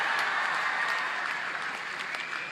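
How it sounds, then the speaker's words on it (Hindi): Applause for Indian Olympic hockey player Vandana Katariya at a state honour ceremony for Tokyo Olympians in Lucknow, a dense steady wash of clapping from a crowd with no gaps. "जोरदार तालियां इनके लिए।"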